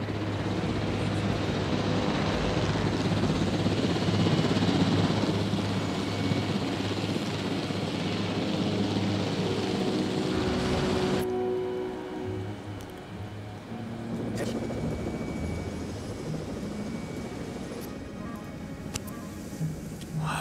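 A loud helicopter rotor and engine drone in the video game Jurassic World Evolution fills the scene, then drops in intensity halfway through and continues more quietly with occasional clicks.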